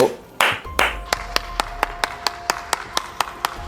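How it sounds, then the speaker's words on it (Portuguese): A single person claps hands slowly and evenly, about a dozen sharp, close claps at a steady rhythm after a couple of initial noises. "Eu tô aplaudindo o Lula."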